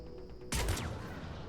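A single sharp sniper rifle shot loaded with freeze bullets rings out in Mass Effect 3, a loud close crack followed by a ringing, sweeping tail.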